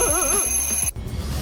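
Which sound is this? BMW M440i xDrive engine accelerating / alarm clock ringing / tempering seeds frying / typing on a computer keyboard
alarm clock ringing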